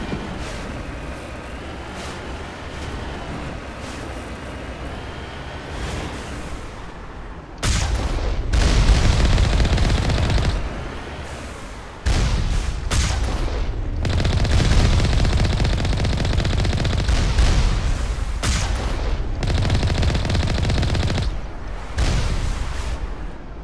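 Mass Effect combat bursts with rapid weapon fire, booming missile impacts and explosions, loud and dense in repeated volleys with brief lulls between them.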